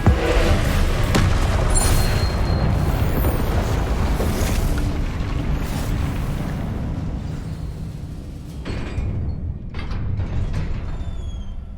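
Confringo fire spell blasts in Hogwarts Legacy go off amid a dense, booming combat din, with loud rumbling explosions that thin out toward the end and no voices.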